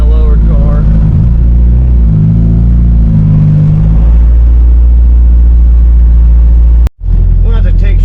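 A lowered straight-piped car with a misfire rumbles loudly up close through a tunnel, its deep exhaust booming and warbling as the revs shift. A sharp dropout near the end breaks the drone before it returns.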